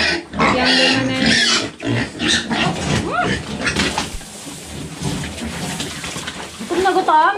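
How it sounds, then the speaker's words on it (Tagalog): A mother pig on a farm grunts and squeals in loud, close bursts, mixed with splashing water and a person talking nearby. "Ito, baboy na yung Mother."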